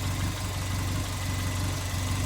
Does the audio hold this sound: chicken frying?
no